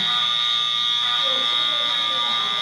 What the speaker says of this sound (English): Apparently we had a fire alarm pulled